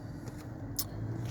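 Car driving along a road, a steady low engine and road rumble heard from inside the vehicle, with faint jingles and a brief hiss near the end.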